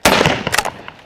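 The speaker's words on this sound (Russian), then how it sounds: "Выше выстрел проходит, под мишень выстрели." A single sharp shotgun blast fired at a sporting clay target, loud and close, followed by a short echoing tail and a faint later crack.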